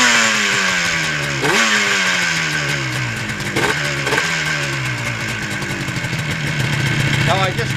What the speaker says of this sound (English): Now I just want to let it warm up so it'll be idling when I bring it back in the garage.